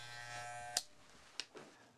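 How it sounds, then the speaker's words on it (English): An electric foil shaver with a detachable head hums steadily for most of the moment at a barbershop skin fade, then switches off, followed by a few faint clicks and handling sounds. "we're going to come back with our foil shaver"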